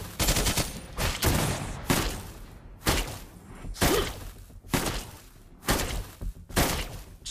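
Rapid bursts of gunfire from a gunslinger hero in the mobile game Mobile Legends, several loud, sharp volleys spaced a second or so apart, close and dominant with no talking.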